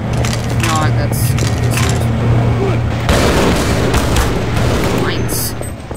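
Gunfire rattles through a firefight in the game Half-Life: loud repeated bursts and booming impacts over a continuous noisy din, with a voice talking over the shots.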